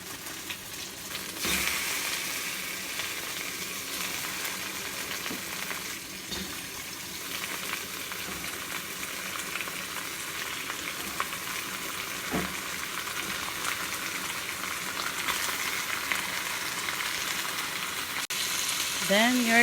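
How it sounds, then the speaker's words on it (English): Milkfish (bangus) sizzling steadily as it fries with spices in a pan, a continuous close hiss with occasional stirring clinks, and a brief voice at the very end. "Let it fry a little bit with the spices"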